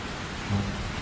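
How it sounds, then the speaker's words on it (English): Steady rain hiss with a soft rumble of distant thunder from a storm sound effect, brief and even. "Do you think the storm is going to get much worse?"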